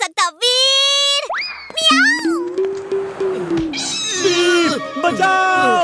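A cartoon cat from the Hindi kids' show Vir: The Robot Boy yowls and meows loudly up close, mixed with a springy boing effect and animated character voices.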